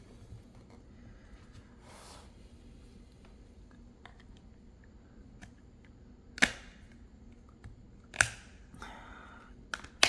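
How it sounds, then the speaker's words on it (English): A few sharp, separate snaps and clicks ring out over near silence as a Ringke Fusion case is pressed onto an iPhone 15 Pro Max, with the loudest click landing near the end. "let's go ahead and snap that case into this beauty."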